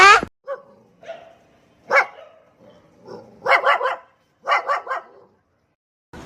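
A dog barks in short clusters of sharp yaps separated by pauses, close and clear against an otherwise quiet background.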